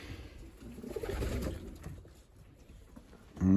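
Pigeons coo softly in a loft during chick ringing, with low murmuring throaty calls and faint shuffling, then a sudden louder thump at the end.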